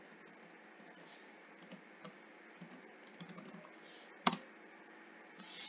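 Quiet typing on a computer keyboard while entering a Linux date command, scattered soft key clicks with one sharper louder click near the end.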